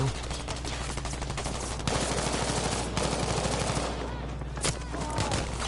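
Rapid bursts of gunfire from a competitive multiplayer shooter game, including pistol shots, dense and continuous with loud game noise throughout and a voice commentating over it.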